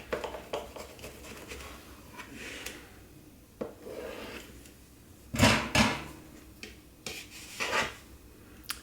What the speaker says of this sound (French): on va couper une part de gâteau